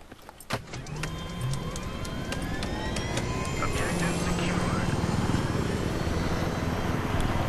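Steady whirring rotor drone of a helicopter in Battlefield 3 builds and holds loud throughout, with engine and mechanical tones layered over it.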